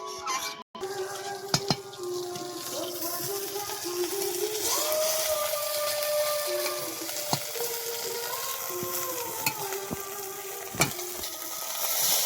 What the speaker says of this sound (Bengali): এই যে শোল মাছের আলুগুলো ভেজে দিচ্ছি,